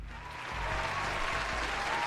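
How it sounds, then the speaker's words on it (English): A crowd breaks into applause, a dense wash of clapping that swells after a brief softer start and holds steady and fairly loud to the end. "for a final round of applause."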